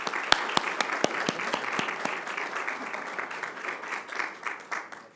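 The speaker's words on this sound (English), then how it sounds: "Let's give him a big round of applause." An audience at a school board meeting claps in a moderate, fairly quiet round of applause, with some distinct individual claps standing out early before the sound tapers off.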